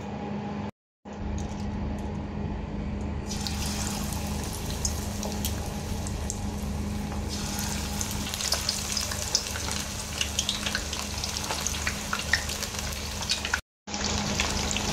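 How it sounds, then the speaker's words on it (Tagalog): Chicken wings deep frying in a deep pot of hot oil, a loud steady sizzle and crackle running nearly unbroken, with two brief drops to silence. "So, ipiprito na natin ito, guys, okay?"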